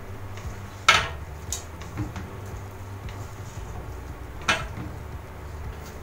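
Pancit canton and bihon noodles are tossed together in a pan with chili, pepper and salt, giving sparse utensil clinks and scrapes against the pan, with two sharper knocks standing out over a quiet background.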